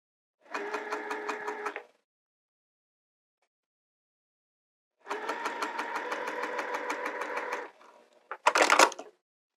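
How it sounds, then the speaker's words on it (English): A sewing machine stitches in the ditch along a curved binding in two steady, rapid bursts, a short one and then a longer one, separated by silence, ending with a few handling clunks. "after I sew in this ditch, this crease"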